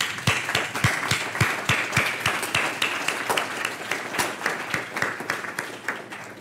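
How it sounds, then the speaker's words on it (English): Graduation guests at the Souderton Vantage Academy 2021 ceremony clap for the parents, a moderate crowd whose applause carries a few loud, distinct near claps pulsing in a quick, even rhythm throughout. "How about a round of applause for our parents?"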